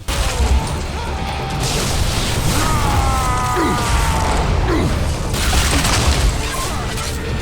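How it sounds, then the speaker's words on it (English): Chaotic Bulletstorm video game combat: bursts of gunfire and crashing explosions layered with whooshing effects and mechanical clatter, loud and continuous throughout. "the sound effects of the guns, explosions, and just overall sheer mayhem really immerse you in the experience"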